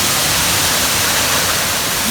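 The Ryuzu waterfall in Jakuchi gorge, a loud, close, unbroken roar of falling water, steady and hiss-like from start to finish with no voices.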